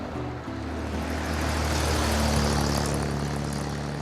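A car with a straight cut gearbox drives along under open sky, its engine a steady droning hum with a whining tone, joined by broad rushing wind noise.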